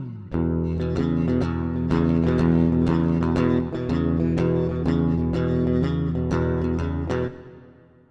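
An electric guitar through a Halo Verb reverb plugin plays a run of plucked notes and chords with a light reverb tail, ringing out alone before fading at the end.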